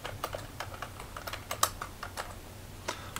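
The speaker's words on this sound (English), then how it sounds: "So on this line, I'll type transcribed by," Typing on a computer keyboard, a quick irregular run of soft key clicks, close and fairly quiet, with no talk.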